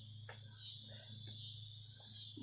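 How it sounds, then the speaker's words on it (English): Faint, continuous high-pitched cicada buzzing in Nebraska hangs steadily in the background over a low hum, with a few soft, indistinct sounds beneath it. "Sorry about the cicadas, guys."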